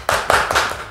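A few sharp hand claps ring out close and loud in quick succession, giving a brief burst of applause from one person.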